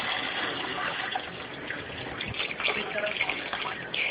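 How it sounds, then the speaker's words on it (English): Water is gently poured into a bucket to cover witch hazel bark resting around a rock. It makes a soft, steady gushing trickle close by that lasts a few seconds. "you're just going to gently pour it into the bucket so that it covers the witch hazel bark"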